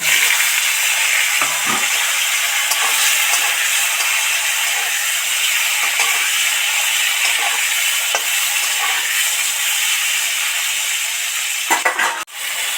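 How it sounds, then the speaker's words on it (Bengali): Potato and tomato pieces hiss and sizzle steadily in hot oil already fragrant with dried red chillies and bay leaves, a loud continuous fry with faint stirring clinks near the end. "এবার আলু টমেটোটা এর মধ্যে উঠিয়ে দেবো"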